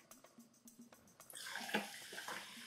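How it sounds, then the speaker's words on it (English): A few soft clinks, then fizzy soda water pours steadily into a glass over ice, a close, bubbly rush that continues to the end. "add your soda water."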